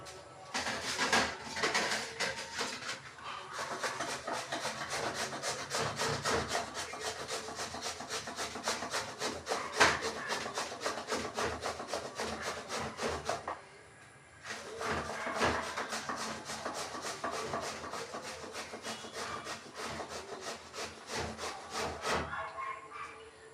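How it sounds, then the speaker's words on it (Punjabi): A peeled bottle gourd is rubbed against a kitchen grater in a home kitchen. Quick, rhythmic rasping strokes repeat steadily up close, with one short pause partway through before the grating starts again. "ਸਾਰੇ ਕੱਦੂਕਸ ਕਰ ਲਾਂਗੇ"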